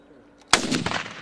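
A rifle fitted with a SMASH 3000 AI fire-control sight fires at a drone: a single sharp, loud crack after a quiet pause, followed by a brief rattling echo.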